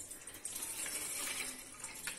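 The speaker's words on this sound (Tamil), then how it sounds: "ஒரு பாத்திரத்தை அடுப்புல வச்சு நம்ம பாலை இப்ப அதில் ஊத்தி கொதிக்க வச்சுக்கணும்." Milk being poured from a packet into a pot on a stove for cooking, a steady soft liquid gush that runs continuously at low volume.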